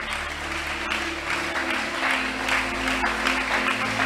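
A church congregation applauds and cheers, sustained clapping from a crowd that stays fairly loud and steady throughout, with a faint voice underneath.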